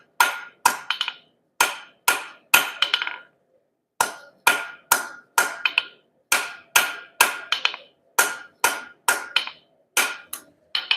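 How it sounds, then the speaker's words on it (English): A blacksmith's hammer pounds hot steel on an anvil, loud ringing metallic strikes landing in quick bursts of three or four blows with short pauses between groups, close and sharp. "Get the rounded end of the hammer."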